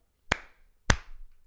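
Two sharp hand claps about half a second apart, loud and close, each with a short ringing room tail, used as a sync marker.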